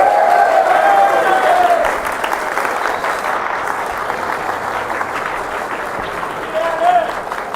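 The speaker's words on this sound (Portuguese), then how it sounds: "a salva de palmas das mulheres" A round of applause from women in the crowd at a political speech in Santo André, loud and dense at first, then thinning into lighter scattered clapping with murmuring voices.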